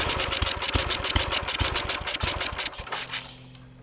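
A 1990 Task Force 5hp rototiller engine with the choke on sputters into a fast, rapid knocking run for a few seconds, then cuts out into a low steady hum.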